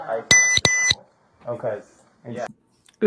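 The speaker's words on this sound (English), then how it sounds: "sorry about the beeping" A police body camera emits a pair of sharp electronic beeps early on, loud and close, while people talk briefly in between and after.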